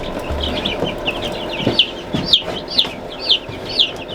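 Black copper Marans chicks in a brooder, peeping in a series of short, high, bright chirps repeating about every half second, close and fairly clear over light background noise.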